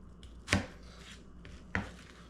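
Two crisp knife chops cutting an onion into wedges on a board, one early and one near the end, each a sharp thud with a bright edge over faint room noise.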